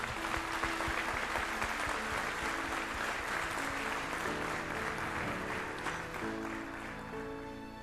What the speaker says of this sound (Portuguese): Igreja, vamos dar um bem-vindo à família de Deus a essas pessoas com um aplauso